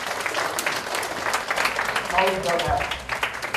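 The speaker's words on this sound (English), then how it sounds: "Give a big clap for you all." A classroom audience claps together, a brief, busy patter of applause running under a voice as he talks over it.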